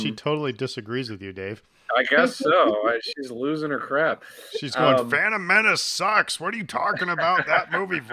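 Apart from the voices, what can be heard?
No everyday noise stands out behind the speech.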